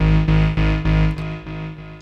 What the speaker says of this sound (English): we've set up a basic patch with 2 oscillators going into the filter